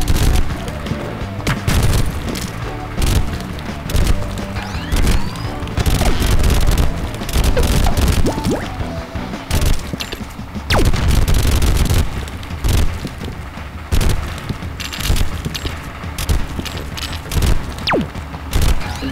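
Explosions and bursts of gunfire in a video game come in repeated loud, sharp blasts with rumbling booms between them, steady and rhythmic over the whole stretch, with little talk.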